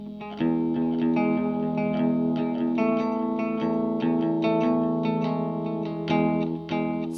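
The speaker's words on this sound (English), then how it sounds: "Next is a heavier digital delay sound." Electric guitar chords ringing through a heavy digital delay, repeats smearing each strum into a thick, sustained wash; steady and loud, no voices.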